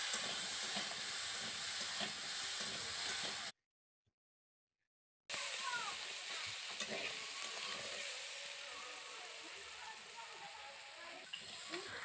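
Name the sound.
potato and eggplant frying in oil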